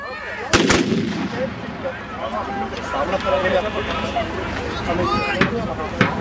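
An artillery piece fires at a 17th-century battle reenactment, with a sharp booming report early on and further bangs later, heard amid crowd noise and talk.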